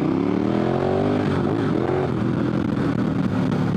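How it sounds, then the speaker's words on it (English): An adventure motorcycle on Michelin Anakee Wild 50/50 tires, ridden with no traction aids, accelerates hard; a loud, close engine drone climbs in pitch and then holds steady, with no voices. "that is me putting mad power down to the back tire with no aids on at all"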